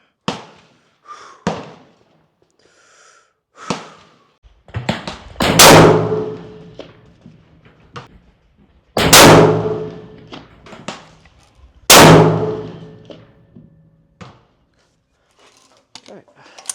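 A .338 Lapua Magnum rifle fires at steel splatter targets 300 yards away during load testing. Three loud, sharp blasts with decaying tails stand out, spaced a few seconds apart, among fainter knocks and thumps, and voices can be heard between shots.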